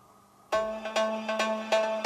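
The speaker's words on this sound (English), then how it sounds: "let me show you how it would sound if only the very first pluck would play" A lone synth pluck sounds the melody for the studio track: quiet lead-in, then five or six bright, sharp plucked notes at a moderate, uneven pace over a sustained low tone. No talking.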